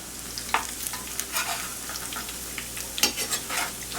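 Potato latkes sizzle steadily in hot oil in a pan as they are flipped, with a few sharp spatula clicks and splatter bursts over the continuous frying.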